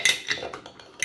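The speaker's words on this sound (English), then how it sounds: "the next thing is to put the cistern top back on, that just sits in." A ceramic toilet cistern lid is set back in place, giving a few light clinks and scrapes, ceramic on ceramic, over about a second, close and fairly quiet.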